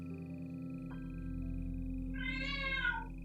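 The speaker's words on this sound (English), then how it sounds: "Oh, the cat's upset about something." A hungry house cat meows once in a long, drawn-out, clear cry, fairly close, over a steady low indoor hum with no talking.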